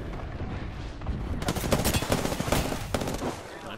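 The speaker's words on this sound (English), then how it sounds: "Firing!" Rapid automatic gunfire in a team-based shooter video game, loud, dense bursts that thicken midway with overlapping shots, then trail off near the end.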